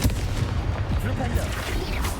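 A Confringo fire spell blasts in Hogwarts Legacy, dense booming rumble and crackle filling the whole moment, loud and continuous with a game voice calling out over it.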